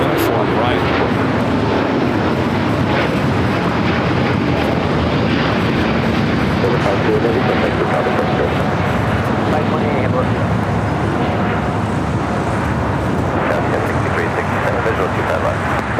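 A Delta airliner takes off at LAX with a loud, sustained jet roar filling the scene, overlaid by continuous radio chatter and talking throughout.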